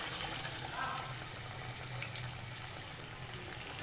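Fish pieces sliding into well-heated oil for a Lahori masala fish fry, giving a steady, dense sizzle and crackle that fills the whole stretch at moderate loudness, without talking.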